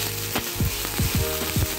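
Rice frying with ketchup in a hot pan, stirred with a utensil, giving a steady sizzle broken by several sharp scraping strokes in an uneven rhythm, close and clear with no talking.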